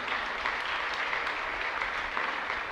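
A church congregation at an evening Rosary feast Mass claps hands in a sustained, even burst of applause that stays moderately loud throughout with no talking.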